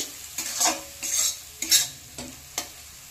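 A spoon stirs split green chillies frying in hot oil in a pan while cooking a rui fish dish with mango, giving rhythmic scraping strokes over a steady close sizzle.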